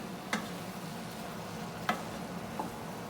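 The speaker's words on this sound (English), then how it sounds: "So I'll give it a quick stir" Sautéed onions and celery stuffing being stirred in stock in a pot: a few soft, scattered scrapes and clicks over a faint, steady simmering hiss, with no voices.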